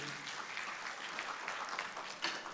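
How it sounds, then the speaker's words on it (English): Conference attendees at a regional conference give a round of applause for a speaker, a quiet, fairly distant patter of many hands clapping, steady for the whole stretch with a slightly louder burst near the end. "A round of applause again for Waziri."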